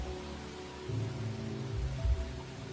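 Steady rain falling in a Roblox game, a soft continuous hiss with low rumbling swells and a brief louder thud near the end, no voices.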